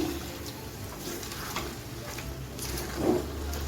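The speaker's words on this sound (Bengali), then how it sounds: "এক টেবিল চামচ ঘি দিয়ে দিচ্ছি এখন ভালো করে মিশিয়ে নিচ্ছি" Chicken with ghee and garam masala is stirred in a hot pan, a soft continuous sizzle with quiet scraping of the spoon, close and fairly faint, with one brief louder scrape near the end.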